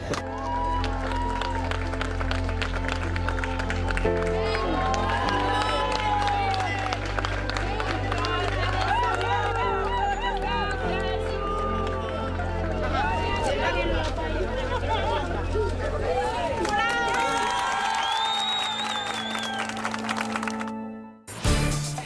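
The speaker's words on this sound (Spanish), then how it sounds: "Entre lágrimas, aplausos, abrazos, así han sido recibidos los prisioneros políticos venezolanos excarcelados durante los últimos 4 días" A crowd greets released Venezuelan political prisoners with cheering, clapping and excited shouting, a loud, continuous mix of many voices and scattered hand claps, with individual people calling out and talking throughout before it cuts off abruptly near the end.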